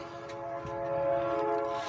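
A passing train sounds its horn nearby, a sustained steady tonal blast lasting the whole moment over a low rumble, loud and alone without talk.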